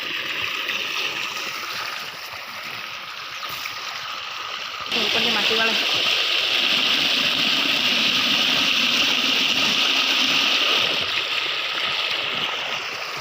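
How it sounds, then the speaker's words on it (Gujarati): Borewell water gushes steadily into a groundnut field, a loud, continuous rushing flow that swells noticeably partway through, with no talking over it. "જોઈ શકો મિત્રો પાણી જેવું આવે બોરનું પાણી છે જેવું આવે"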